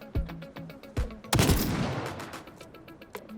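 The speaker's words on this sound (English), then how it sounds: "But this is the explosive rifle." An explosive rifle firing in the game Hawked: a string of sharp, evenly spaced gunshots, broken by one loud blast with a rolling, crackling tail, before the rhythmic shots resume more faintly.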